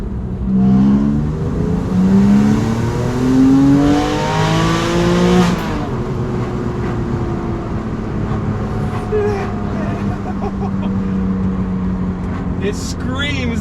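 A Porsche 911 997.1 Carrera 4S wide body engine revs hard and loud for about five seconds with rising, screaming harmonics, then drops to a steady idle rumble under faint background noise.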